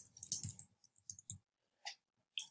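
Someone types on a computer keyboard, a quick run of close, crisp key clicks followed by a few isolated taps after brief pauses, with no talking.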